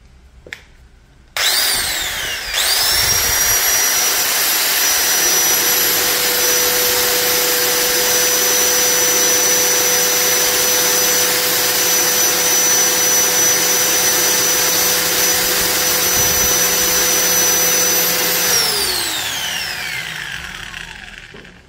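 A Makita M0900B angle grinder spins up sharply, holds a loud, steady high whine at full speed for most of the stretch, then winds down near the end, with no talking.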